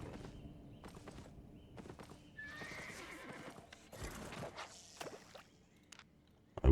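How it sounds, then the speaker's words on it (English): Armored horse hooves clip-clopping in the video game Albion Online, a series of close, distinct hoof knocks with a horse neigh mixed in amid other game sounds. "Tier 6 fisher with an armored horse."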